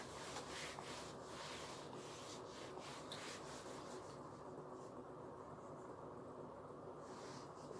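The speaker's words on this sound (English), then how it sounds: "now let me rub the board" Duster rubbing a classroom board clean during a class 12 maths lesson, a series of quick rhythmic scrubbing strokes at close range for about four seconds, then easing into quieter room noise.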